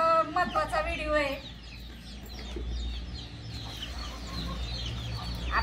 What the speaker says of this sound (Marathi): त्या बघा कोंबड्या पाणी प्यायला लागल्या